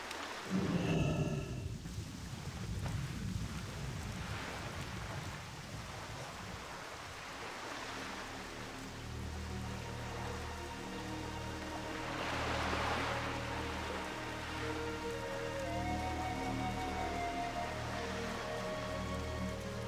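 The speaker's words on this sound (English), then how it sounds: "It's been raining here a lot today." Steady rain with rumbling thunder in the World of Warcraft: The Burning Crusade Classic game world, a continuous wash of rainfall that swells around the middle, with low rolling thunder and some game music underneath.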